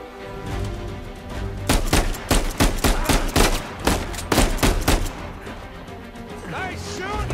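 Gunfire in Uncharted 4 on PS5: a run of sharp, loud shots in irregular bursts through the middle, with a voice speaking before and after the shooting.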